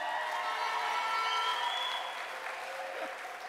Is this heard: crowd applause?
yes